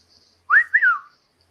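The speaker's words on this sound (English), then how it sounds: "It's an albino cockatiel." An albino cockatiel gives a single clear two-part whistle, rising then sliding down, close and alone against near silence.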